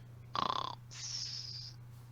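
A voice imitates gentle snoring: a short rattling inhale followed by a longer, breathy exhale, heard once, quiet and close over a low steady hum.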